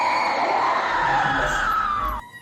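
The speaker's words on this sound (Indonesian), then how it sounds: "teriakan sayup terputus-putus seperti suara teriakan anak kecil" A thin, wavering scream like a small child's wails for about two seconds, slightly sliding in pitch over a faint murmur before stopping suddenly.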